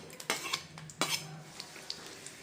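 Garlic cloves and urad dal frying in hot oil as a tempering for tomato dal, stirred with a metal spoon that clinks and scrapes against the pan in two sharp strikes and a few lighter taps over a soft background sizzle.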